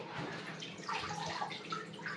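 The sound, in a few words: water dripping from soaked waterproof paper pattern into bucket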